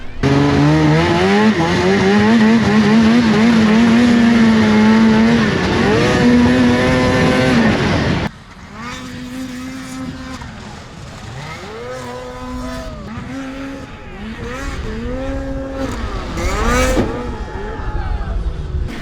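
An overheating off-road race vehicle engine revs hard and loud, then drops abruptly and bogs, sputtering through a series of uneven struggling rises and falls.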